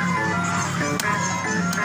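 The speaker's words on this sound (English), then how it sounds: "this is another Noddy Kiddie ride by Belfruit," A Bell Fruit Noddy kiddie ride plays its tinkly, steady electronic tune, sustained and close throughout, with a couple of brief sharp clicks partway through.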